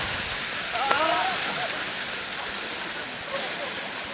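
Steady broadband rush of water at Soloka waterfall in Assam fills the whole stretch, loud and constant, with a brief faint voice-like tone rising over it.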